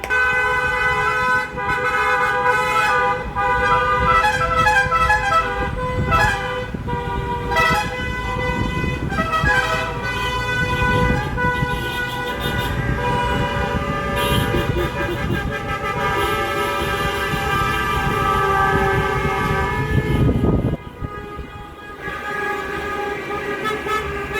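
A wedding car convoy passing on a street, car horns honking repeatedly in long overlapping toots and rhythmic bursts, loud and close, with traffic noise beneath, until the honking breaks off near the end.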